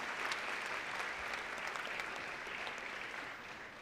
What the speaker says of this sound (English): she deserves a well-deserved round of applause